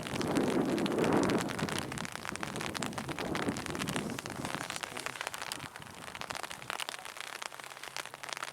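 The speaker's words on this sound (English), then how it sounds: "rain at one of the driest places on earth is a truly rare sight" Steady rain falls in Death Valley, a broad continuous hiss of drops on the ground with a heavier burst near the start, then a slightly thinner, even patter to the end, with no voices.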